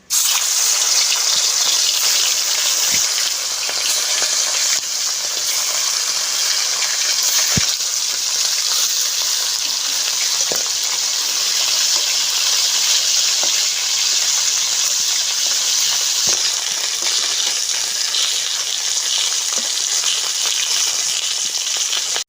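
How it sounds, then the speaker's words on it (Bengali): Snakehead fish hitting hot mustard oil in a wok, a loud, continuous hissing sizzle that holds steady throughout with a few faint pops and crackles. "তেলগুলো গরম হয়ে গেছে, শোল মাছগুলো দিয়ে দেব।"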